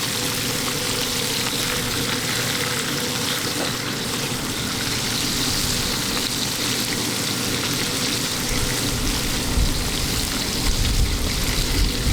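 Butter sizzles on the griddle of a Yoder YS640S pellet smoker, a loud, steady, even crackle and hiss that fills the whole stretch without pause.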